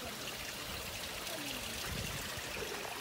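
Water in Ping Nam Stream near Sha Tau Kok, Hong Kong, rushes and trickles in a steady, close broadband flow with no pauses.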